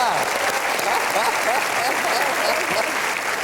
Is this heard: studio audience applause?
yes